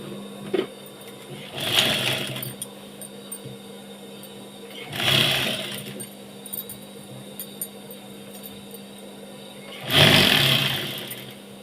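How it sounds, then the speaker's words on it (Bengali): A sewing machine stitches the side seam of a nightie in three short, separate bursts of rapid mechanical whirring, with a faint steady hum between the runs. "এইভাবে সাইডটা সেলাই করে নেবো"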